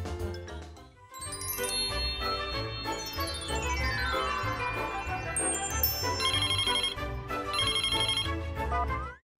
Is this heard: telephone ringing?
yes